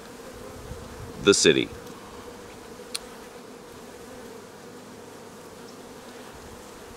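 Rescued honeybees buzz softly around a hive as they rebuild after being vacuumed up, with one louder buzz flying close past early on and a faint background hum, plus a brief quiet voice.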